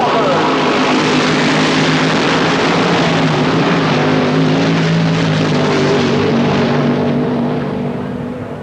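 An AA Fuel dragster from the Pure Heaven team roars down a quarter-mile strip at Palmdale Raceway, a loud, sustained engine blast that fades slightly at the end, with a crowd or announcer faintly underneath.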